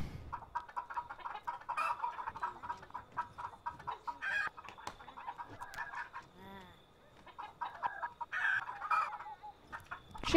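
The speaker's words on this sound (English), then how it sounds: "Chickens." Chickens in Sims Medieval cluck steadily in a busy farmyard chorus, with a rooster crowing partway through, the birds fairly faint and continuous throughout.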